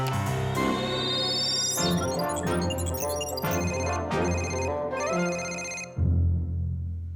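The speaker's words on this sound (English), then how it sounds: "Didn't you know that you can call Johnny straight from your computer?" A cartoon computer call ringtone, an electronic ringing melody that plays continuously and loudly in repeating phrases for several seconds, with no speech.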